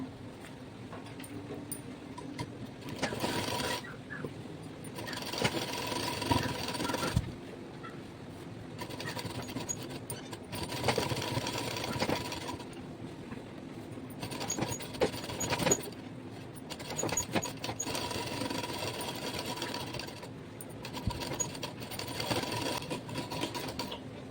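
A sewing machine stitches lungi fabric in several runs of steady mechanical whirring and clatter, separated by short quiet pauses while the cloth is repositioned, heard close and fairly quiet.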